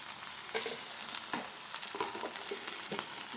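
Okra sizzling and frying in oil in a pan, a steady crackling hiss with occasional stirring scrapes, close and continuous with no voices.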